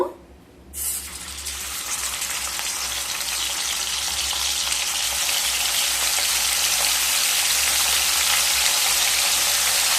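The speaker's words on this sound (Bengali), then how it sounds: "চিংড়ি মাছগুলোকে ভেজে নেব" Prawns frying in mustard oil in a kadai give a loud, steady sizzle that flares up within the first second and then holds as a dense, continuous crackle close to the pan, with no one talking.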